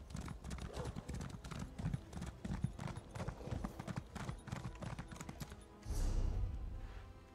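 Horse hoofbeats from riding a mount in the video game Elder Scrolls Online: a steady, quick clip-clop rhythm that carries on throughout, ending in a louder, deeper rumbling burst.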